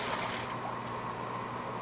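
A short, quick pour of liquid, heard as a steady soft splashing trickle that carries on without a break, close but faint.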